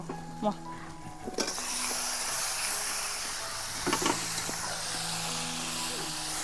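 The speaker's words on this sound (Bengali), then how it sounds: "মশলা তো ভালোভাবে ভাজা হয়ে গেছে, মশলা থেকে তেলও ছেড়ে দিয়েছে। এবার আমি দিয়ে দেবো মাংস।" Raw chicken hits hot fried masala in a kadai, bursting into a loud continuous hiss of sizzling oil that keeps bubbling steadily, with a few clinks of a spoon against the pan.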